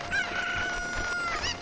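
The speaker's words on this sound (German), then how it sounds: "Wir nehmen uns mal kurz einen Huhn mit." A Cucco chicken in the video game Zelda Ocarina of Time lets out a high, drawn-out crowing squawk, clear and up front, with a rising cluck at the end.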